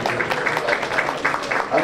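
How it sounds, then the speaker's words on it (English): A crowd at a county fair swine show applauds three exhibitors with brisk, steady clapping throughout, backed by faint crowd noise. "Let's give these three exhibitors a big round of applause"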